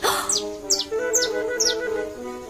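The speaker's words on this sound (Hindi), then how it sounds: "लेकिन वो नहीं जानती थी कि सिंड्रेला की दोस्त चिड़िया उसके पीछे उड़ रही थी" A cartoon bird in an animated Cinderella story gives four quick, bright, descending chirps at an even pace over sustained background music.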